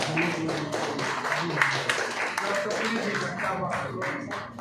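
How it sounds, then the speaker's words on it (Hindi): An audience applauds to welcome a guest at a political party joining event, a sustained round of clapping with individual claps distinct, voices murmuring and speaking underneath. "तालियों से स्वागत करें।"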